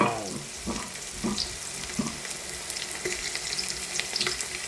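Garlic, onion and ginger frying for chicken tinola give a steady sizzle with splashy, watery crackle and scattered spits throughout, close and fairly loud, with no talk over it.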